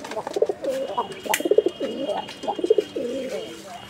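A pigeon coos in a run of rolling, throaty phrases, close by and moderately loud, each call a few seconds apart, with a faint hum in the background.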